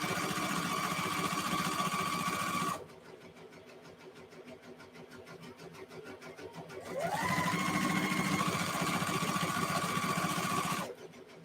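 A sewing machine stitches tutus with a long stitch length, running loud and steady for about three seconds, pausing, then running again for roughly four seconds, with a steady mechanical whir.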